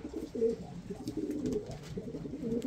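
Racing pigeons coo softly and repeatedly near the loft while being fed fresh greens, with low, rolling calls overlapping against faint background noise.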